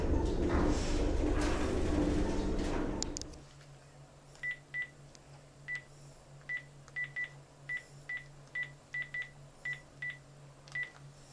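Telephone dialing tones as a phone number is entered to call parents: after a loud rustling, handled opening, a dozen short, evenly spaced keypad beeps sound alone over a low steady hum.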